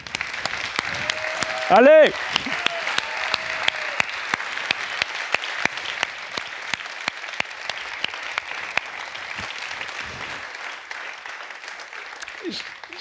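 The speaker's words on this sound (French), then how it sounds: "qu'on lui fasse un tour d'applaudissements supplémentaire" Audience applause at a French Tech back-to-school event, dense continuous clapping with sharp individual claps standing out, and a single shouted voice cheering near the start.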